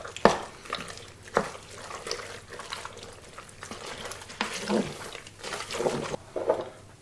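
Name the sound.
stirring cream into pasta and turkey in a Cookeo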